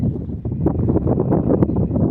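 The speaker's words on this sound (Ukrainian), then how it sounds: "Вітер повіває" Wind blows outdoors in the countryside, buffeting close against the microphone as a loud, rough, gusty rumble that stays steady throughout the short moment, with no voices.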